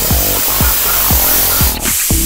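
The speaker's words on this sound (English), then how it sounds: "because we're using a contact adhesive, you have to spray both materials" An air-powered sprayer lays contact adhesive onto panels for a Rockford Fosgate subwoofer box in a loud, close hiss, broken by about five rhythmic low thumps roughly half a second apart and one short gap near the end.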